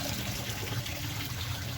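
Water from a DIY fish pond filter trickles and drains steadily in a quiet, continuous wash, with no voices.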